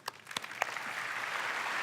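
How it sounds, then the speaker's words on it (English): Applause from a large keynote audience at Microsoft Inspire 2017: a few sharp individual claps at the start, then a steady, dense wash of clapping that builds and holds. "Let's give her a round of applause."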